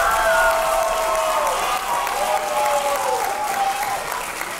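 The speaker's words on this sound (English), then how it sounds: "we get another round of applause for all the performers so far tonight?" Audience applause for performers at a school end-of-year music concert, steady dense clapping throughout with a light crowd murmur and a tonal voice or note running under it.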